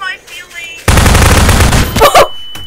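A rocket launcher fires in Garry's Mod. After a quiet start, a loud, dense blast roars for about a second, then tails off into a brief crackle.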